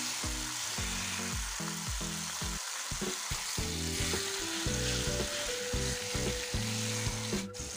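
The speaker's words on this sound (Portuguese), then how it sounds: "Meu óleo já aqueceu, agora eu vou adicionar uma por uma bisteca." Pork chops frying in hot oil, a loud, dense and even sizzle heard close up with no talk, while a repeating melodic tone plays underneath.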